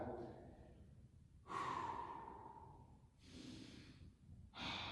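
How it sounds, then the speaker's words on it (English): Exaggerated, audible breathing during a stretching routine: a few slow, close breaths, each a deep breath in or a long breath out, with short quiet gaps between them. "I'm really going to exaggerate my breathing"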